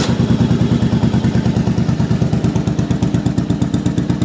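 A warmed-up 1994 Yamaha Virago 750 motorcycle engine idles loudly and close, its steady rapid thumping pulse running without a break and with no talk over it.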